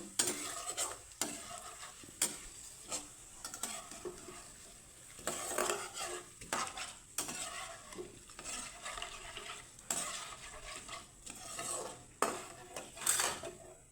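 Boondi for motichoor laddu frying in hot oil: a steady sizzle under repeated scraping and clinking of a metal utensil against the pan, close and without talk.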